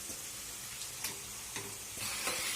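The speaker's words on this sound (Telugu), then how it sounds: "మ్యారినేట్ పెట్టుకున్న చికెన్ని ఈ ఆనియన్స్ ఫ్రై అవుతున్న మిశ్రమంలోకి చికెన్ని యాడ్ చేసేయండి" Marinated chicken sizzling with onions in hot oil, a steady soft frying hiss with occasional brief crackles and stirring clicks, fairly faint and close, no talking.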